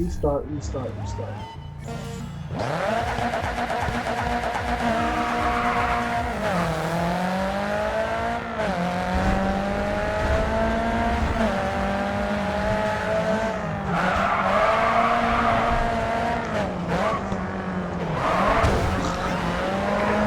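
A race car in the Grid 2 video game roars continuously with engine pitch rising and falling, plus tire squeal and skids from a crash, loud and steady under someone talking over it.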